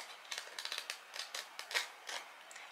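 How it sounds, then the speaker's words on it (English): Tarot cards being riffle shuffled up close, a faint, quick fluttering run of crisp clicks and ticks from the cards interleaving, lasting a couple of seconds in an otherwise quiet room. "I'm so excited that I learned to riffle shuffle a little bit."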